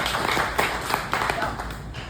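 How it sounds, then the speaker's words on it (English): Scattered applause from an audience at a patriot-themed book talk in Little Elm, Texas, a short burst of claps mixed with talk in the room. "I can have an applause for that last part."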